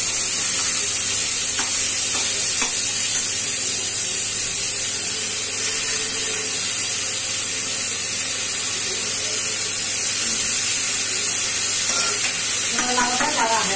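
Chopped bottle gourd frying in a hot pan for a moong dal and gourd curry, hissing in a loud, constant sizzle with soft stirring scrapes throughout and a brighter burst of spattering near the end.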